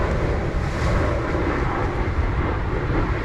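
An Alaska Air airplane heard from on board in warm weather: a loud, steady broadband engine and cabin roar, constant and unbroken throughout, with no talking.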